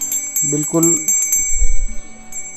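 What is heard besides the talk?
brass puja bell ringing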